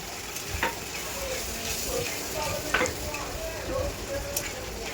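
Fish in a pan sizzles and fries steadily as crushed garlic and ginger are added and stirred, with a few brief clinks and scrapes rising above the constant hiss.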